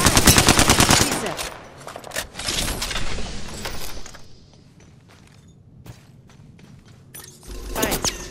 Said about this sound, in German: Stehe unter Beschuss.